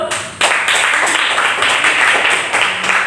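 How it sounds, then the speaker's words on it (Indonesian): Brief burst of clapping from students in a classroom, starting abruptly and continuing as a busy patter of hands for a few seconds. "baik tepuk tangan dulu"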